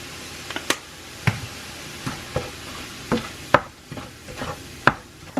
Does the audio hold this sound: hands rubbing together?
no